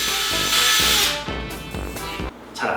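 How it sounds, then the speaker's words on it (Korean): An electric drill bores a hole through an 18mm wooden board, its loud motor whine rising and falling as the bit bites into the wood in several close bursts. "자 뚫어보도록 하겠습니다."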